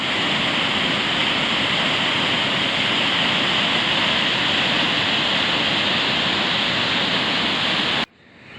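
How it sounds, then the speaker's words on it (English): Water rushes over a stone arch dam on a river at Nicholsons Rapids, a loud, steady roar of heavy falling water heard up close, cutting off abruptly near the end. "We found a beautiful, looks like a stone arch dam. And, woo! That's a lot of water."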